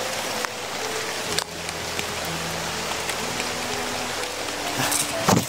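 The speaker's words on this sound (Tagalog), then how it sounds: "Kaya lumakas yung ulan ah." Steady heavy rain pours down in a broadband wash during a storm outdoors, continuous and close, with a brief thump near the start and a few faint voices in the background.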